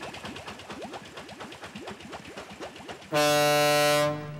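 A loud, steady train whistle blasts for about a second after rapid rhythmic chugging, then cuts off.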